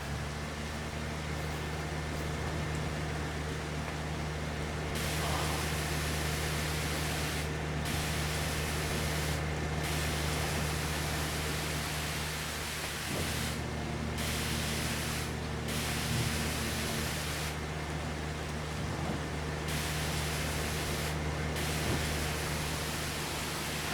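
A tractor being washed off with a water sprayer on a farm on a stormy day: a steady, close hiss of spraying water that cuts in and out in bursts over a low, constant mechanical hum.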